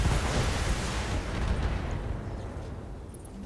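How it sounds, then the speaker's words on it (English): An ammo explosion in the Battletech video game hits as a critical strike on a mech, a loud rumbling blast that roars at the start and slowly decays over a few seconds. "So it's ammo explosion taking a critical hit."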